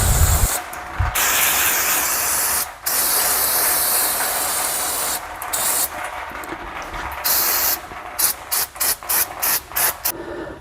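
Aerosol degreaser sprays in long continuous hissing bursts onto the 7-litre engine of a 1967 Ford Galaxie R Code XL, close and loud, breaking into shorter choppy spurts near the end.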